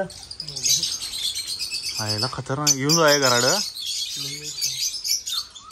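Bengalese finches and Java sparrows in an aviary, a dense constant high-pitched chirping chorus heard behind people talking nearby.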